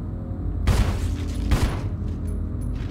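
Gunshots in Resident Evil HD Remaster, two loud booming blasts about a second apart, each with a short rumbling tail, and no talk.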